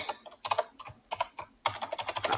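Rapid typing on a computer keyboard while a new Minecraft name is entered, close and crisp, with clustered bursts of key clicks separated by short pauses and a denser flurry near the end.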